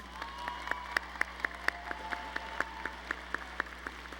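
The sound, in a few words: applause for law graduates at commencement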